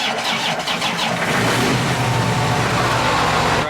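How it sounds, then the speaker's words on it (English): A heavy John Deere 8320 tractor engine running steadily and loud during corn harvest, with a brief rev and clatter at the start before settling into a constant rumbling drone. "Out of all of the tractors that we have, this 8320 sounds the best."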